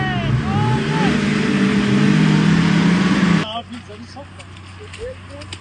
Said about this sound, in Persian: وقتی ماشینت گیر میکنه خودت به فکر کم شد